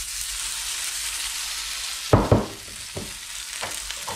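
Burger patty sizzling steadily in a greased pan, with a couple of sharp clanks and scrapes partway through as it is pressed and shaped.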